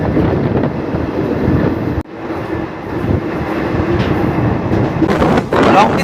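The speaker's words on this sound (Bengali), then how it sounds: "আমাদের এই 12363 হলদিবাড়ি এক্সপ্রেস কিন্তু বর্তমানে ঝাড়খণ্ড রাজ্যের উপর থেকে ছুটে চলেছে" The 12363 Haldibari Superfast Express runs steadily through Jharkhand, a continuous loud rumble of wheels and carriage noise with a brief dip partway and a rougher clatter near the end.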